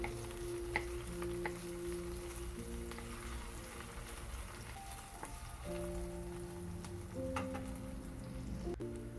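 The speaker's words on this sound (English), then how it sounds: "And now I'm going to saute the red onion first." Garlic and red onion sautéing in a pan with a steady, moderate sizzle, faint stirring and scraping, and a low background hum running throughout.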